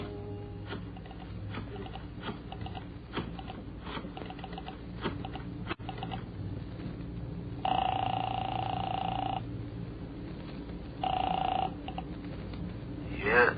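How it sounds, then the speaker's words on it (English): A telephone rings on a call placed from a phone booth, two bursts of electronic ringback tone heard faintly over a narrow, muffled old-recording line with background murmur. "I found a phone booth and called Marty Crane's apartment."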